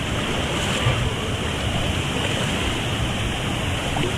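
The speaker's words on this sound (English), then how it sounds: "so we can see what the waves are like in the lazy river." Steady, loud, broadband rushing and splashing of water in a water park lazy river, a continuous wash of churning waves with no pauses, close by and filling the whole stretch.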